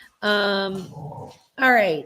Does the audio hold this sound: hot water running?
no